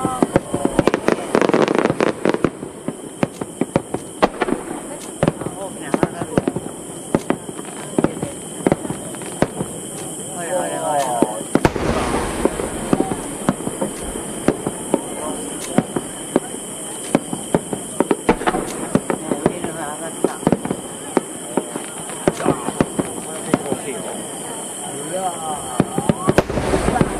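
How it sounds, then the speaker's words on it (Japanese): Large fireworks burst at a summer festival fireworks show at Okazaki, Japan, loud repeated booms and crackling rolling on continuously with dense overlapping explosions, crowd voices murmuring underneath. "大きな花火。"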